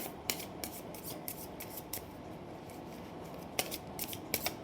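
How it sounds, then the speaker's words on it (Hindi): Tarot cards are shuffled by hand, with repeated crisp riffling snaps and soft sliding rubs in quick irregular bursts, close and alone without speech. "जब तक मैं कार्ड शफल कर रही हूँ"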